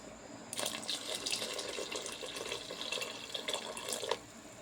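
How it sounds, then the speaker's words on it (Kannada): Water pours into a sprouted horse gram sambar being cooked, a continuous splashing stream starting after a brief pause and running for several seconds before cutting off, fairly close and without talk. "ಕನ್ಸಿಸ್ಟೆನ್ಸಿ ನೋಡಿಕೊಂಡು ನೀರು ಕೂಡ ಆ್ಯಡ್ ಮಾಡ್ತಾ ಇದ್ದೀವಿ"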